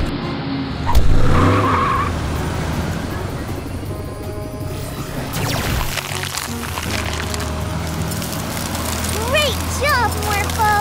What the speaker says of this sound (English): Now, morph into a monster ice truck!